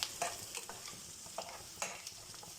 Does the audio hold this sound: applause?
no